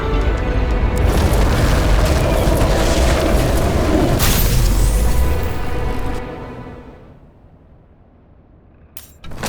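A transformer explodes in the video game Nobody Wants to Die after being flooded and catching fire, a cable acting as a fuse: a loud, sustained booming roar that fades out after about six seconds, followed by quiet.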